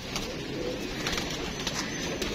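Pigeons coo steadily over a dense, noisy background of other birds, the soft repeated calls continuing throughout without talking.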